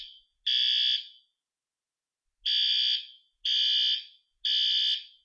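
A building fire alarm panel under test sounds loud, piercing electronic tones in even pulses of about a second, separated by short silences, with no voices.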